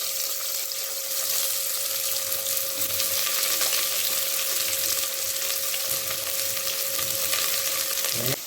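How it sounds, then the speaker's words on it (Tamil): Onions with green chillies, cinnamon, cloves and spices sautéing in oil for mushroom biryani, a steady close hiss of frying with faint stirring and no talk. "இப்போ வந்து வெங்காயம் வந்து நம்ம போட்டு வதக்கிட்டு இருக்கிறோம்"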